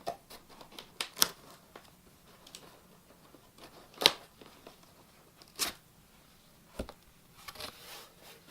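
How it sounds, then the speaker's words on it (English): Unboxing a Jamba professional blender: cardboard and packing material rustle, tear and scrape, with scattered sharp crinkles and snaps separated by quieter handling and no talking. "Okay, so let's start unboxing."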